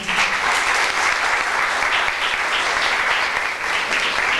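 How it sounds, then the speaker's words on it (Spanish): Audience at an academic seminar applauding, a steady, even wash of many hands clapping that holds at full strength for several seconds. "que pido un fuerte aplauso"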